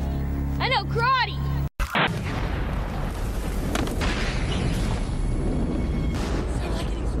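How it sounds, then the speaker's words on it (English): An explosion in the forest action film Forest Warrior: a brief vocal sound, then a sudden loud blast near the two-second mark, followed by several seconds of dense, rumbling roar and debris noise. "Sounded like an explosion."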